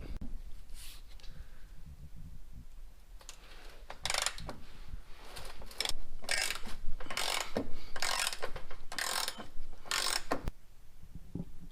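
Ratchet clicks in short bursts as a stud remover is turned on a Jeep XJ, repeated quick ratcheting strokes close up with brief pauses between them, no talking.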